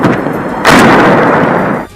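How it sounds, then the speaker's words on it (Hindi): Russian bombs explode around the Azovstal steel plant in the evening, a loud, rumbling roar of blasts with a sharp new burst partway through, echoing on before fading. No voices are heard. "अजोवस्ताल स्टील प्लांट के आसपास बरसाए गए बम तेज चमक के साथ धमाका करते दिखाई दिए"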